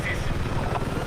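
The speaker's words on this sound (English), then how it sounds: "This chopper should be able to help" A helicopter in the video game Battlefield 6 gives a steady, close rotor rumble with a fast, low, chopping pulse that runs without a break for the whole moment.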